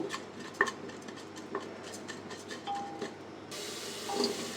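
Puffed rice being stirred in a pressure cooker with a little water added, giving a run of light scraping ticks and taps against the metal, close and fairly quiet, with a faint brief whistle near the end.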